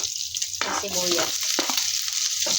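Chopped onion and garlic sauté in hot cooking oil for a vegetable stir-fry, a steady close hiss with a few scraping stirs of a utensil against the pan.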